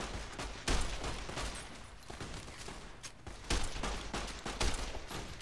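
Varmint rifle fire in the video game Fallout New Vegas sounds as a dense, continuous volley of shots with a few louder bursts, thick and busy throughout.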